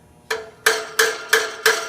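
Hammer tapping parts into place during assembly, five sharp, evenly spaced knocks about a third of a second apart, close and clear with nothing else behind them.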